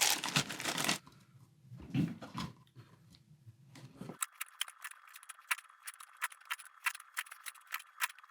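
Strawberry Sour Patch Kids candy being cut up: a rustle and thuds first, then a run of quick, crisp snips and clicks close by, fairly quiet and with no talking.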